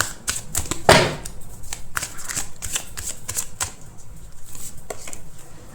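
Tarot cards drawn and handled in a busy run of close, papery shuffles, flicks and soft taps, with one louder slap near the start.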